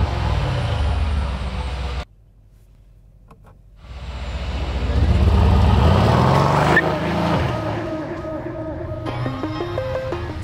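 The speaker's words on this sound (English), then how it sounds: "Now it's time to take it out and see how it drives." A 2020 Mercedes-AMG C 63 S sedan is driven, first idling, then a brief quiet gap before the engine roars up under hard acceleration, settles, and revs again with sharp throttle blips.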